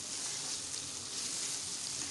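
Chicken karela with spices sizzles steadily in a pan as it is stirred, a close, continuous frying hiss with no talking.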